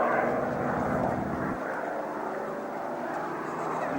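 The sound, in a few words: Messerschmitt Bf 109 fighter aircraft engine at an air show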